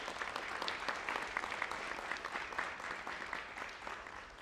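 An audience at a high school National Honor Society induction ceremony claps steadily, a dense continuous round of applause from a seated crowd in a hall, holding at an even level throughout.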